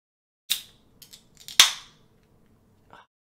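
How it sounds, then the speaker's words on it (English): A beer bottle being opened during a gaming stream: a few sharp metallic clicks and snaps as the cap is pried, one louder crack near the middle, then a faint short hiss, with no talking. "I'm having the hardest time opening my beer"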